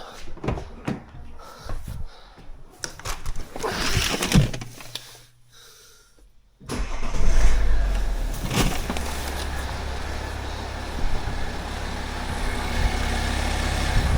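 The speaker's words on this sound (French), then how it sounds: "Donc démarrer le moteur." A car engine turns over after a pause and settles into a steady low idle, following some clattering and handling noises, during an automatic transmission fluid flush.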